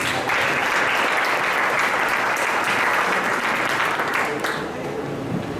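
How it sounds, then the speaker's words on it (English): Sustained audience applause closing an urban redevelopment conference in Tacloban City, dense and steady for about four and a half seconds before thinning out. "A round of applause, please."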